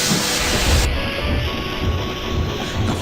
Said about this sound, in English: The fireman raised steam as quickly as he could